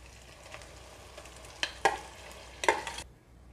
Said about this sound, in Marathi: मसूर आणि मसाले मिक्स करून घेऊयात